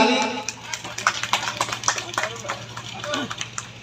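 Audience clapping at a local cultural program, a dense patter of many hands spreading across the whole stretch, moderately loud with uneven swells and a steady low hum beneath.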